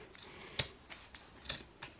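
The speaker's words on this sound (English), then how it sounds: "So I've just got a pair of fabric scissors here" Fabric scissors snip through an old t-shirt or towel, several crisp close cuts at an uneven pace, each a short sharp click, heard in a quiet room with no talking.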